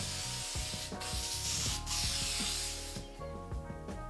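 A steady hissing spray of haze released in a few bursts, close and fairly loud, with light rubbing noises around it.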